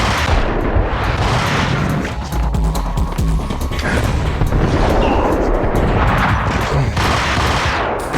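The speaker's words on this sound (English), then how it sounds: "He took 2 shotgun blasts!" Shotgun blasts and chaotic gunfire in the Max Payne video game, a dense barrage of sharp booming shots and crashing impacts filling the scene, loud and continuous with brief gaps.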